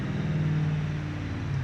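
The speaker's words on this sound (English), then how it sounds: "I see why I was still revving so high, because I still had the gas on" Car engine in a racing video game played with a steering wheel, held at high revs with the gas still pressed: a steady, loud, droning motor tone with no break, alone without talk.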